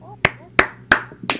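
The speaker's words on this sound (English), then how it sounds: "I'm gonna clap three times and then slap myself in the face" Four sharp, evenly spaced hand claps ring out close and loud, with the last one a little softer, and faint vocal sounds in between.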